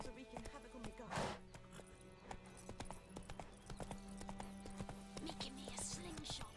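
Steady clip-clop of horse hooves trotting in The Witcher 3, a continuous rhythmic patter with occasional gear and ambient noises layered over it, no voice present.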